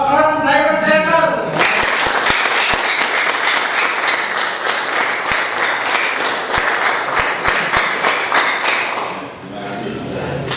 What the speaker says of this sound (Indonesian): Beri tepuk tangan buat beliaunya Bapak Insinyur Adi Nugroho